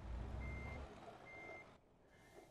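Reversing beeps from a truck in Euro Truck Simulator 2, evenly spaced high tones repeating over a low engine rumble, with the engine noise dropping away briefly near the end.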